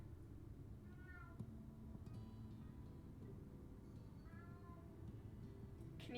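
Teddy, a pet cat, lets out two clear meows a few seconds apart, faint and close by over a steady low background hum.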